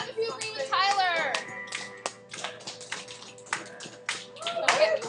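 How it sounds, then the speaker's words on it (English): Students in a classroom clap briefly and unevenly, close by, mixed with children's voices and a teacher talking over the taps. "clap if you agree with Tyler"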